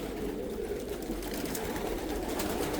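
Pigeons kept in a large loft of homing and squab birds coo and murmur steadily at moderate volume, a continuous soft rumble of calls with faint background rustling.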